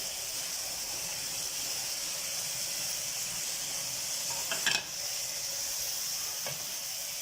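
Bell peppers sizzle steadily in a hot pan, a soft constant hiss with a brief clatter of stirring near the middle.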